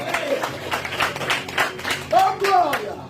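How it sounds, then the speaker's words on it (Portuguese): A church gathering in a rural settlement breaks into rhythmic group clapping in honour of a member, steady claps close by mixed with raised voices calling out. "Aplausos a Jesus pela vida do Lenilton."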